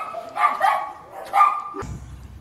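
A dog at an animal shelter barking, two separate loud barks close by about a second apart, followed by a brief low rumble of background noise.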